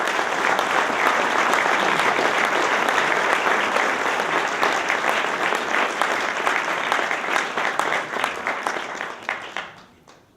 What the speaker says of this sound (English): Let's give a round of applause to the Burlington Free Press.